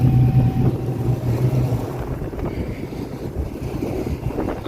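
Wind blowing outdoors in an open field during seeding, a steady rough rumble buffeting the microphone, with a faint low engine drone early on and no talking.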